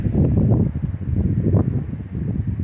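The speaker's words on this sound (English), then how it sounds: "Today is an oddly windy day" Steady low rumbling wind buffets the microphone outdoors among trees in Florida, a continuous blustery roar with no voices.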